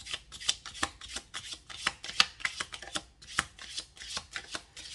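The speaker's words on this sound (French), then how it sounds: "On va bien brasser les cartes." Playing cards being shuffled up close, a steady series of crisp riffling and sliding bursts that repeat rhythmically for several seconds, with no voices.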